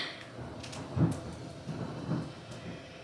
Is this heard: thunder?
yes